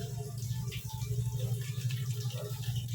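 Water pours steadily into a plastic dipper to dissolve oxalic acid for cleaning a washing machine; a continuous, close, fairly loud rushing splash with no talking.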